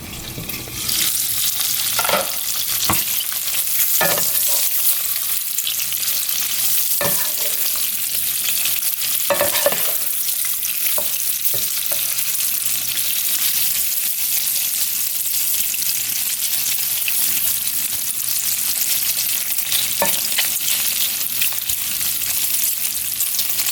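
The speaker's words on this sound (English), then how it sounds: "Let's let that bacon cook about 3 more minutes." Bacon frying in a pan, a steady loud sizzle and crackle that runs on without a break, with a few sharp pops and clicks now and then and no talking.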